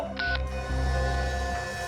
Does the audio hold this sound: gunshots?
no